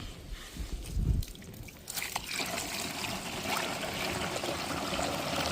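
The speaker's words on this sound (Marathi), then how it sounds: "आता ह्याच्यावर पाणी टाका" Water trickles and streams steadily onto a surface, a continuous wet splashing after a brief low thump, fairly close and moderately loud.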